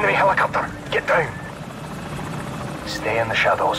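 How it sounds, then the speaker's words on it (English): An enemy helicopter in the video game Call of Duty Modern Warfare 2 thumps and whirs steadily, with bursts of game voices and effects over its rotor drone. "Enemy helicopter! Get down!"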